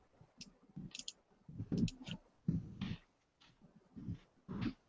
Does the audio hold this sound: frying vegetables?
no